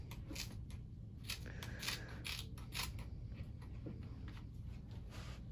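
Scissors snip through medical tape on skin in a string of short, crisp cuts with faint creaking blade sounds over quiet room noise.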